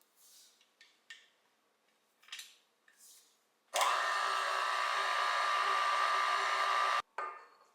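Dough mixture for matcha cinnamon rolls is stirred in a bowl, a few soft scraping strokes first, then a loud steady whirring rush for about three seconds that cuts off abruptly, followed by another short burst.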